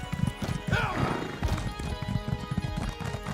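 Horse hooves clip-clopping in the video game ESO Deadlands, a steady rhythmic trot close by, with a brief whinny and game music and talk layered over it.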